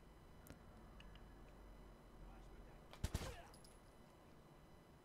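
Suppressed gunfire in Watch Dogs 2 cracks out as a tight cluster of two or three muffled shots partway through, standing above a steady low ambient bed.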